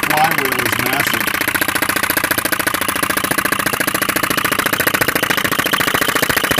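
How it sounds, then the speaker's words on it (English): A PM Research model vacuum engine with a massive heavy flywheel runs at a steady rapid beat, its even mechanical chuffing and clicking close and loud throughout, with no voices. "PM Research vacuum engine."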